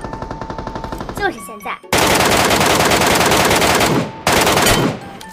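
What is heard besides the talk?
gunfire in a video game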